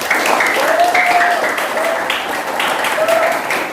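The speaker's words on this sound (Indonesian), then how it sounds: "Tepuk tangan buat Pak Abdillah." An audience claps steadily at a school ceremony for a visiting religious-affairs official, a continuous wash of applause that runs the whole time while a voice speaks over it.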